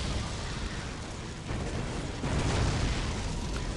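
A listening post being destroyed in the strategy game Dawn of War Soulstorm, heard as a dense, steady wash of explosive rumble and crackling battle noise that swells louder toward the end, with no talk.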